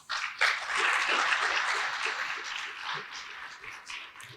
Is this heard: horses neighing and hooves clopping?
no